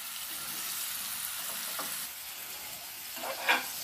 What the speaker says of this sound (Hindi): चिकन को पूरा इसको रोस्ट होने तक तलना है